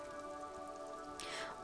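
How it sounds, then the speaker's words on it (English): Steady rain dripping off eternite-covered roofs along an urban coastline in Disco Elysium, a continuous soft patter layered over a low tonal ambient hum, with a brief brighter splash near the end. "rain dripping off eternite covered roofs"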